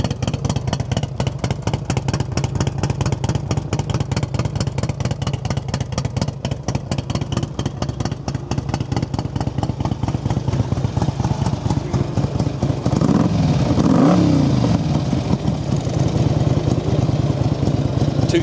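A 2006 Harley-Davidson Ultra Classic FLHTCU motorcycle engine runs with a loud, rapid, lumpy idle throughout, then revs up briefly near the end before settling back.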